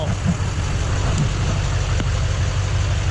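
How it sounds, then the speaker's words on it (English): A 2008 Chevy 3500HD with a 6.6 LMM diesel and straight exhaust idles steadily nearby with a deep, rumbling exhaust drone, continuous and loud throughout, with no talking. "hear an exhaust now"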